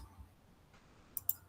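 Two quick, faint clicks sound close together near the end, like a computer mouse button, over a quiet background.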